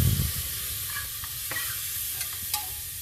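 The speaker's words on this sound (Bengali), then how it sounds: "তারপরে হালকা করে এর মধ্যে এটাকে নাড়তে লাগবে" Steady frying sizzle of spices in a pan, with a spoon scraping and stirring through it and a few sharp clicks, close and without talk.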